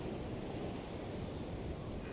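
Rough, agitated sea waves wash against the coast during sea bass fishing, heard as a steady, loud broadband roar of surf and wind with no breaks.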